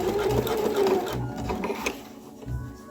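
A sewing machine runs in short bursts, stitching a tri-glide onto a Christmas dog collar, with a rapid mechanical whir and brief pauses between runs, loud and close.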